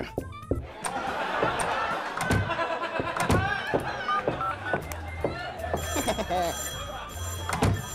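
Telephone ringing in the video game Neighbours from Hell, repeated ring bursts mixed with game thunks and effects, under steady background game sound.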